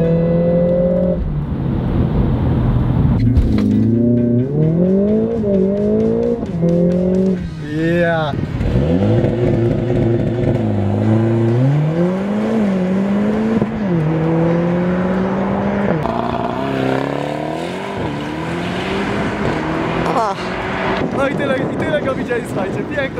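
A Mercedes CLA driving hard in Sport Plus mode, its engine revving up and down through repeated gear changes with rising and falling pitch, close and loud throughout, with people talking over it.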